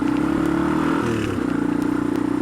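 A four-wheeler ATV engine on a trail holds a loud, close, steady drone with a pulsing rhythm, dipping briefly midway before picking back up.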